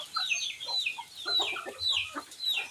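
Chickens and young chicks being fed in the rain, a close flurry of high peeping chirps mixed with soft clucks, continuous and lively throughout.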